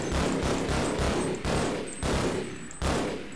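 Rapid video-game gunfire from Half-Life rattles off in loud, close bursts separated by brief gaps, one volley after another.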